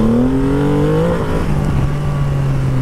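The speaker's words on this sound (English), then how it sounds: "If it's flat, it floor it." A Triumph Rocket 3 GT motorcycle pulls hard at full throttle, and its engine note climbs steadily in pitch. The throaty roar is loud and close from start to finish, with no talk over it.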